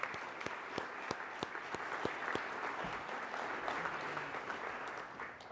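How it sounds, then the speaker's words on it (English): Audience applause for a panel's speakers at a public forum, steady clapping from a moderate-sized crowd running throughout, fairly even and a little distant, with a few sharper claps standing out. "And one more big round of applause for our speakers"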